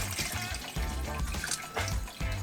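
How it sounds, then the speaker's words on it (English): RV toilet flushing out remaining water, a close, low gurgling and trickling of water with short splashy pulses, fairly quiet. "Step 2, go ahead and flush your toilet to get rid of any remaining water."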